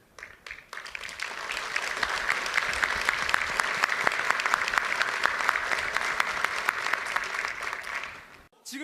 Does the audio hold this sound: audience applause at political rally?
yes